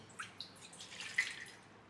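Water is poured from a measured one-litre batch into a kilogram of chapati flour, giving faint, close splashing and a few drips, with no voices.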